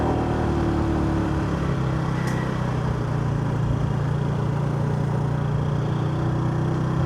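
A scooter engine hums steadily while riding along a road, a constant droning motor sound with faint wind, close and loud without pause and no one talking.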